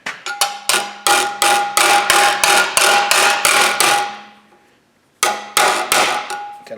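Hammer blows bending a Studebaker pickup door rust repair panel, about a dozen loud ringing metallic strikes in steady rhythm, a pause, then three more blows.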